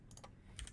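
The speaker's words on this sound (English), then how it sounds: "So I'm gonna just type that in." Quick keystrokes on a computer keyboard while typing a filename during Python coding, a few sharp clicks in a short burst, close and clear with no voice.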